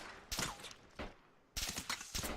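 Bursts of gunfire from a video game, a few separate volleys with short gaps between them, loud and close.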